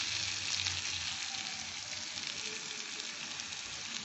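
Onion and poppy seeds fry in mustard oil in a pan, giving a steady, close, continuous sizzle and crackle that carries on without any speech.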